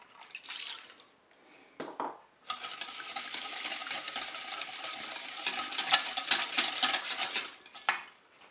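Cherry cake batter stirred with milk in a bowl, a brief clink first, then a continuous wet, clattering whisking sound close up that swells and lasts several seconds before stopping.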